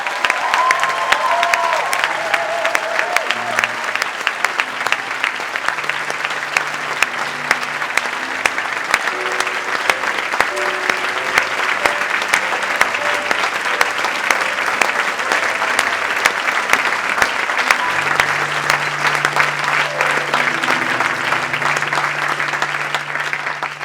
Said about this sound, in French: Donc un maximum d'applaudissements pour ces personnes